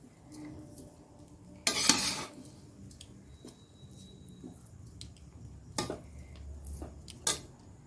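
Pulao being stirred in a pot at home, with a few sharp scrapes and clinks of the spoon against the metal standing out from a quiet background.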